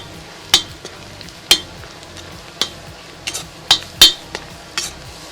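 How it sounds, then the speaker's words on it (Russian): Tomato paste frying and being stirred in a kazan over an outdoor campfire for a meat solyanka, with soft sizzling under scattered sharp clinks and scrapes of a spoon against the pot. "Обжариваем."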